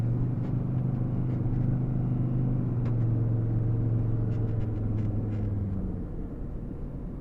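Inside a four-wheel drive car in high range on beach sand, tyres at 15 PSI, a steady loud low engine drone and rumble carries on throughout, easing slightly near the end, with faint rattles over it.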